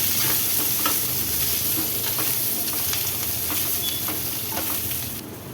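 Steady sizzling of onions and tamarind frying in hot oil, with occasional stirring scrapes, continuous and close throughout.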